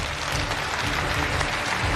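A studio audience applauds to welcome a guest onto a Chinese TV stage, a dense, steady wash of clapping from many hands, loud and sustained with no voices on top.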